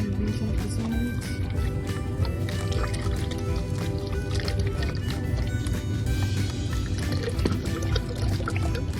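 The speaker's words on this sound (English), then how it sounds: "I'm going to add the rest of our beef broth in here and rinse off the sides." Beef broth is poured into a pot and rinsed down its sides, a continuous close liquid splash and trickle running throughout at a steady level, with some faint background talk.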